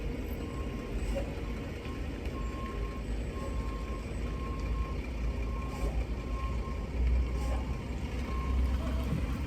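A concrete truck backs up with its reversing alarm sounding in a steady repeated beep over a continuous low engine rumble and outdoor traffic noise, moderately distant.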